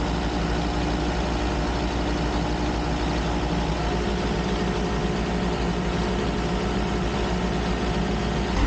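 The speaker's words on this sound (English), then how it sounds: "now I'm running the engines in gear just to make sure that everything is all right" The engines of a sailboat run in gear with a steady, low, unbroken drone that stays constant and fairly loud throughout, with no voices.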